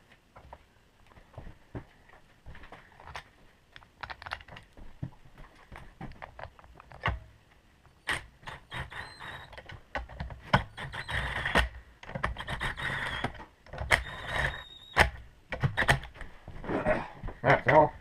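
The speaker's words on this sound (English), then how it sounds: "so what I got to do is put the bolts back in" Bolts go back into a Craftsman air compressor by hand, a scattered run of small metallic clicks, taps and rattles, close and fairly quiet, growing busier in the second half.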